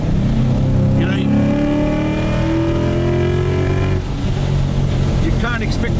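A tuned 2017 Ford Mustang GT V8 roars hard under acceleration with wheel spin, its engine note climbing steadily before a brief dip and then rising again as the next gear pulls, loud and close.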